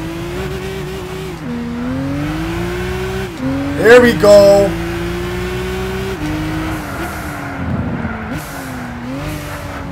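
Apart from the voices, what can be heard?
race car turbo spooling in Gran Turismo video game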